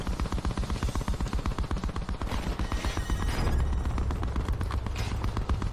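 Loud, rapid automatic gunfire from the Call of Duty Black Ops 4 Blackout video game, with dense bursts of shots running almost continuously and a heavier boom rumbling underneath midway.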